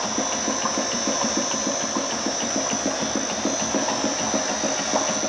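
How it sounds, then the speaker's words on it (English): A Mouvex C24 pump runs at 200 RPM while self-priming with blue fluid, giving a steady mechanical hum with a regular, close rhythmic pulsing throughout. "The pump is running at"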